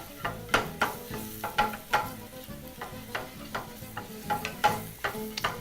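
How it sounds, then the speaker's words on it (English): A soft sizzle of spices frying in a pan over medium heat runs underneath, broken by regular scraping knocks of a spoon stirring against it. "starting off your frying at very medium temperature"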